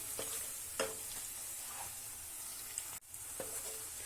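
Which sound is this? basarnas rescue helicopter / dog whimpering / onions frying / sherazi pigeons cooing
onions frying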